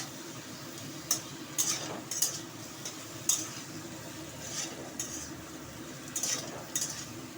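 Amaranth stems and potatoes with salt being stirred in a pan, with scattered scrapes and clinks of the utensil over a steady low sizzle, close and moderately loud.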